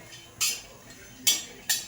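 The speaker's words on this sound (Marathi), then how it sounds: "आता आपण खोबऱ्याला भाजून घेतो।" Grated coconut and onion are dry-roasted in a pan. Three short, bright scraping swishes of stirring sound close up, with quiet pauses between them.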